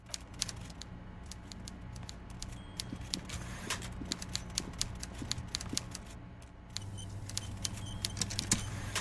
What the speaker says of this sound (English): Everard Clare clatters away on his typewriter